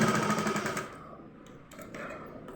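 Sewing machine stitching a handmade teddy bear, a steady rapid motor whir with a fast stitching chatter for the first second, then fading to quieter, intermittent mechanical clicks.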